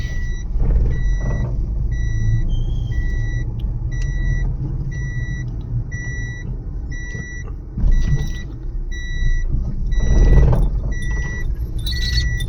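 A family car rolling through a housing society, with its engine rumbling steadily and a regular high beeping tone repeating throughout, plus a couple of louder thumps as it goes over speed bumps.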